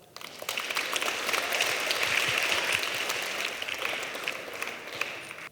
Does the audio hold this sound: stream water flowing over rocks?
no